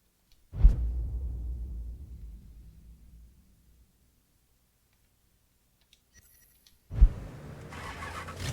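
Car engine cranks and catches in the Mafia 3 video game, a sharp start that rumbles into idle and fades, then after a pause a second ignition roars up loudly and keeps running.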